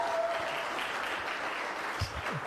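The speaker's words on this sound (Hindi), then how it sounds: "एक बार तालियां होनी चाहिए सुशील के लिए यार" Applause for a colleague at a first-year team celebration, a steady dense clatter of many hands clapping throughout, moderately loud and filling the room with no break.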